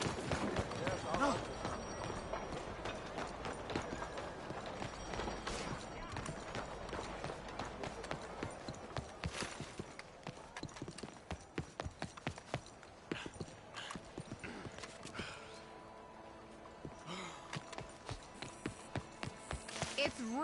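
Horse hooves clop in a steady galloping rhythm while riding in the video game Red Dead Redemption 2, fairly quiet and close, with occasional voices talking over the beat.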